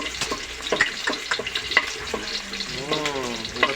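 Eggs frying in a pan, a close, busy sizzle with crackles and pops, steady throughout, with a brief whistling tone near the end.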